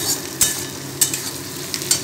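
Chopped tomato fries in a pan during mutton curry cooking, with a low, soft sizzle broken by a few sharp stirring scrapes and clinks.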